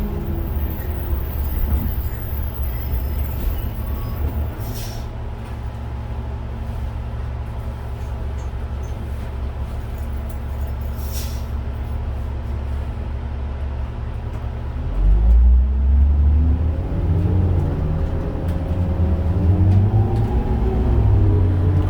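A 2001 New Flyer D40LF transit bus rides through the night, its engine droning steadily from inside the cabin. Midway through, the engine revs up into a louder, rising rumble as the bus accelerates.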